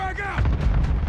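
A frag grenade blast in Call of Duty, heard as a loud, deep rumbling boom that swells in over a short burst of game chatter and continues as a sustained low roar.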